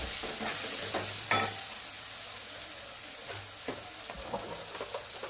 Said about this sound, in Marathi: आणि परतून घ्यायचं, पुन्हा एकदा एकजीव करायचं सगळा मसाला